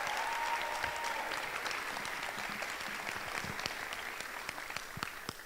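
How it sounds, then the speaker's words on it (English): Sustained applause from a gathered audience at a university Asia club play, steady dense clapping that fills the whole span and slowly thins toward the end, with a brief tone at the start. "And please give a round of applause."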